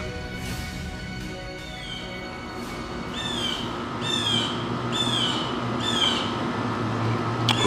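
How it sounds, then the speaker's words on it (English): A loud bird squawks in a repeated series of harsh calls, evenly spaced over steady background noise. "that's a loud ass bird"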